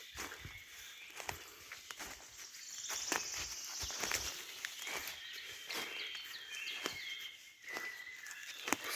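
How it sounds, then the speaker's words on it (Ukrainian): Birds chirp and sing in a spring forest in the morning, several bright calls near and far over a faint background of insects and light rustling. "Красота, спів пташок."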